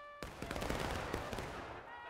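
A ragged musket volley crackles in the War of Rights video game, a rapid cluster of close and distant gunshots rolling together over about two seconds.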